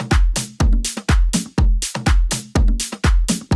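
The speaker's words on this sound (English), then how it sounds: "I'm using some different percussion loops like this conga one from our Tetra pack." A conga percussion loop from the Tetra sample pack for melodic house: repeating hand-drum hits with resonant low tones, alternating open and slapped strokes in a steady groove, loud and close with no other sound.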